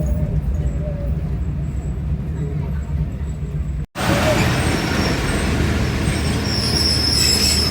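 Passenger train arriving at Gujrat railway station in Pakistan, wheels squealing with steady rumbling rail noise, a brief dropout midway, then continued loud screeching and clatter nearby.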